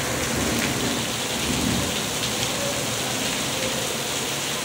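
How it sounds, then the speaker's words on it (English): Heavy rain pours down in a dense, continuous roar, loud and close, with no letup and a low rumble underneath. "it rained sideways"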